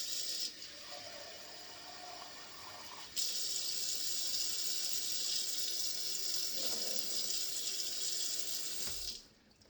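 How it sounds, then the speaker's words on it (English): Warm water runs from a kitchen tap into a measuring cup for bread dough, a steady hiss that pauses briefly, surges back louder and then cuts off near the end. "now let's get some warm water"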